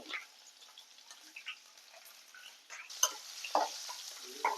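Small shallots sauté with curry leaves in a pan for kara kuzhambu, giving a faint, low sizzle broken by intermittent scraping and clinking stirs of a spoon, without any voices.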